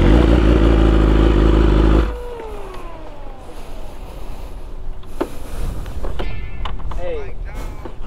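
A 1000RR sport motorcycle's engine roars loud and close at high revs for two seconds and then cuts off abruptly. Wind rush, faint passing engines and brief clatters follow.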